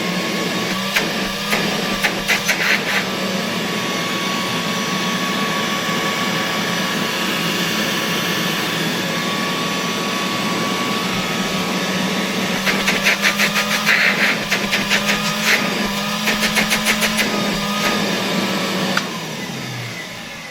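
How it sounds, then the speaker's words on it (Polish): A 1930s Progress 2 vacuum cleaner rated at 260 W runs steadily with a close, even motor whine and hum, broken by brief rattling bursts of clicks and some clatter before the pitch drops as it winds down. "Muszę przyznać, że ten odkurzacz działa naprawdę dobrze."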